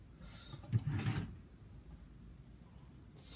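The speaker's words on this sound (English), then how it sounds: "Don't close the middle drawer." A drawer slides shut in a drawer-racing contest, a short muffled rolling thump near the start, followed by quiet and a faint click at the end.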